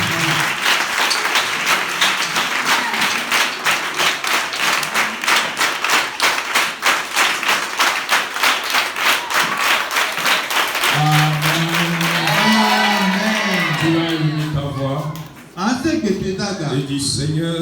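A church congregation standing to acclaim the Lord, rhythmic group clapping steady and loud for about eleven seconds, then voices shouting and cheering over the applause as it fades near the end.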